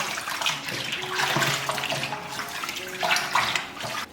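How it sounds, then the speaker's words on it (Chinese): Tap water runs steadily into a sink as a cleaned sea bass, scrubbed with salt, is rinsed under it, a close continuous splashing that swells and dips without any talk. "用清水多冲洗几遍，然后沥干水分。"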